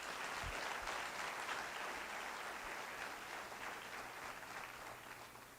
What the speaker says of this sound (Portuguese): Louve a Jesus com as suas palmas.